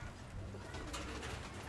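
Pigeons cooing nearby in a low, soft, rolling call over steady background hum, brief and moderately quiet with no talk.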